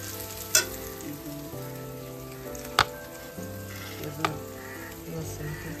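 Chicken marinated in chicken masala frying for biryani, a continuous close sizzle with a low hum beneath and a few sharp utensil knocks against the pan.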